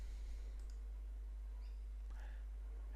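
A few faint, quick clicks from a computer mouse, a soft one early and another near the end, over a quiet background hum with no one talking.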